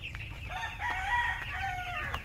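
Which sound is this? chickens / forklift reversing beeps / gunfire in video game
chickens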